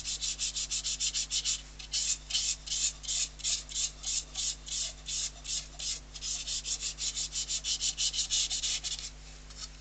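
A yew wood bowl is sanded by hand in steady, rhythmic rasping strokes, about three per second, close and clear over a faint constant hum.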